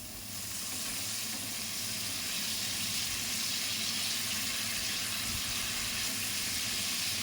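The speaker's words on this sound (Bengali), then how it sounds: "হালকা করে একটু ভেজে নেবো। দেখুন কিশমিশগুলো একটুখানি ফুলে যাবে" Raisins sizzle and fry in a pan over a gas flame for a fried rice kheer (payesh), a steady close hissing crackle throughout with no talk.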